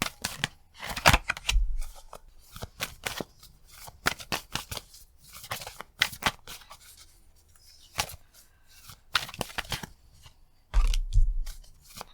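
Tarot cards pulled from several decks during a love reading, heard as repeated crisp shuffling riffles and sliding card sounds in close bursts with brief pauses and a few soft thumps, no talking.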